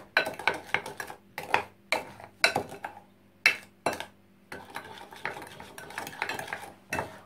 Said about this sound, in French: Et quand on l'a mis, on doit mélanger